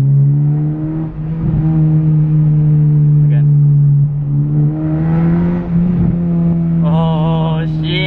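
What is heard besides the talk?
Honda Civic Si engine revving on launch control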